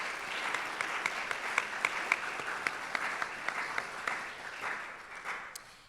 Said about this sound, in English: Can we have one more round of applause for all of our amazing sponsors?